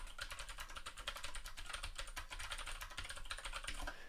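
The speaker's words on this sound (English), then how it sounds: "I have no problems typing full speed on this keyboard" Fast continuous typing on an Ergodox EZ split mechanical keyboard, rapid clicky keystrokes in a steady stream, close and clear with no talk.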